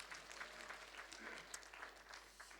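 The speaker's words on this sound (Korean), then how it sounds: "다시 한번 하나님께 박수를 영광 돌립시다." A church congregation at a Korean Sunday service claps in praise, a soft, somewhat distant patter of many hands spread evenly throughout.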